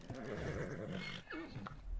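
A horse in ARK neighs close by, a loud wavering whinny with rising and falling pitch lasting over a second, then a shorter snort-like call.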